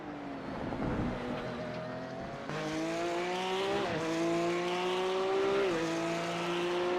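Porsche Cup race cars in a sim racing game scream past with rising, shifting engine tones, a nearby car held loud and steady through gear changes, with no talking.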